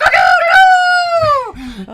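A cockerel crowing close and loud, one long drawn-out call that falls away at the end, with clucking and movement around it.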